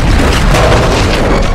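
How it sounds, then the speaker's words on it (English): A massive oil field explosion roars as one loud, dense, sustained blast of booming, crackling noise filling the whole moment with no pause. "the oil field erupted in a massive explosion, engulfing the entire area in a fiery inferno"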